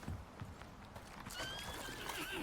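Horses in the survival video game Icarus whinny and neigh with shrill rising calls alongside soft hoof clops, faint and quiet in the game's ambience.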